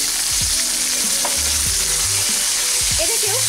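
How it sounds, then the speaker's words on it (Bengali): Green peas and lightly fried onion sizzling in a pan as they are stirred, a steady close crackle with occasional scraping sounds, no voices. "পেঁয়াজটা হালকা ভাজা হয়ে যাওয়ার পরে এর মধ্যে দিয়ে দিচ্ছি আমি মটরশুঁটি।"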